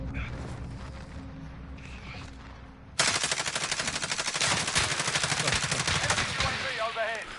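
Video-game gunfire aimed at the player, starting with faint distant shots and then a sudden, loud, sustained burst of rapid automatic fire close by, with mechanical rattling at the end.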